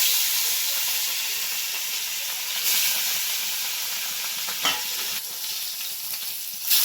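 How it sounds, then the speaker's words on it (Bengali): Fish rubbed with salt and turmeric frying in a wok, a loud continuous sizzle and hiss of hot oil with brief louder crackling bursts as pieces settle or are moved. "নুন হলুদ মাখানো আমার মাছগুলোকে এরপর আমি কড়াইয়ে দিয়ে দেবো।"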